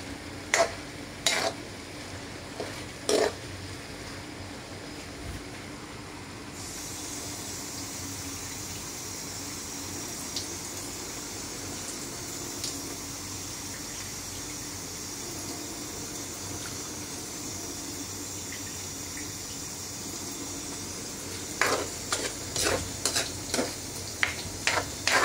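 Broccoli and liver for igado stir-frying in a pan as water is added, giving a steady close sizzle with clattering stirring strokes at the start and again near the end.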